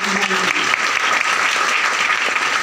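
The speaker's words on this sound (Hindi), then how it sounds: "एक जोरदार ताली चाहूंगा।" An audience at a business talk gives Pratima a hearty round of applause: steady, close, many-handed clapping that holds at an even loudness throughout.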